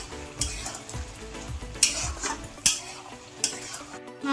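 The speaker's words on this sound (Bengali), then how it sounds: "মাংসটাকে ভালো করে নেড়ে ছেড়ে কষিয়ে নিতে হবে।" Chicken pieces being stirred and fried in a pan for a simple chicken curry, with a continuous sizzle broken by a few sharp metallic scrapes of a spoon against the pan at irregular intervals.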